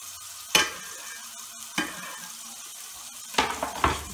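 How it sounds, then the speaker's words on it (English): Ingredients for a beef ragu sautéing in a pan and being stirred, with a steady sizzle under a few sharp scrapes and knocks of a spoon against the pan, close and moderately loud, no talking. "Give that a good stir."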